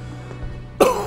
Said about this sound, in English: And there's the first cough already.